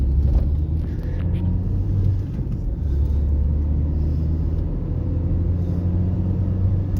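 Car driving along a country road near Ilton in Somerset, heard from inside as a steady low engine and road rumble that holds throughout with little change.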